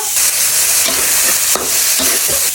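Pork fries loudly in a pan with light soy sauce, garlic and chilli, a strong continuous sizzle broken by several sharp scrapes and stirs of a utensil against the pan.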